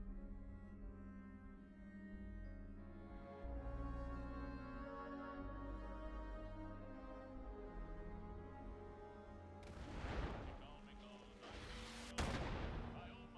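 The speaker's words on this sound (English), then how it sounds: "I love spawning in and hearing explosions." Explosions in the video game Fallout 76 burst out twice near the end, loud and broadband, the second sharper, over a steady bed of game music.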